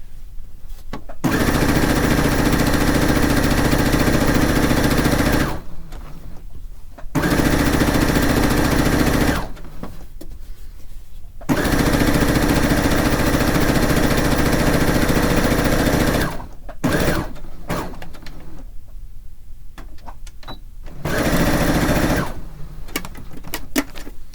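Sewing machine running in long bursts while stitching together the backing for a fish quilt, loud and steady runs of a few seconds each, separated by short pauses.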